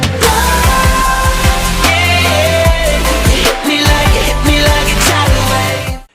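A brief loud excerpt of a polished pop song from the band's last album, with a punchy repeating drum beat, bass and layered melodic parts filling the mix until a quick fade at the end.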